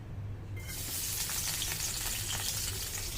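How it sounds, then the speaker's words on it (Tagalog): Chopped onions hit a hot pan for chicken liver adobo, and a bright sizzle bursts in after a moment of quiet. It then holds as a steady, close hiss. "Una lagay natin onion. Yan, tayo magigisa, sabay na yan."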